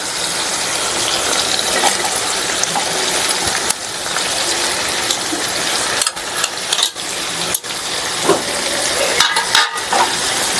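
Potatoes frying with tomato and onion in a pan, a steady broadband sizzle with occasional scraping stirs and clicks, close and continuous with no talking.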